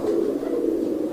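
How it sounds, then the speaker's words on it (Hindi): An Iranian pigeon coos in a low, soft continuous murmur, close and steady, with no other sounds over it. "ये कबूतर नज़र आ रहा है"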